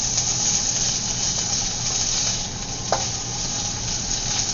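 Shrimp fry in a pan for Seoul-style fried rice, with a loud, steady sizzle close up, a brief knock of a utensil partway through, and no one speaking.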